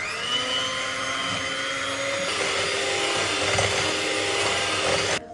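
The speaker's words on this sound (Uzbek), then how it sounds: "3 ta tuxumni ustiga shakarni solib, yaxshilab oppoq bo'lguncha mikser qilamiz" Electric hand mixer beating three eggs with sugar until pale, a steady close whirring drone that shifts pitch partway through and runs without talk before cutting off at the end.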